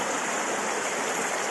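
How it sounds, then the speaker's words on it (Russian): River water rushes steadily over a small rapid step on the Ukhta River, a continuous broadband roar close by with no pauses. "водопад. Не водопад, а ступень такая."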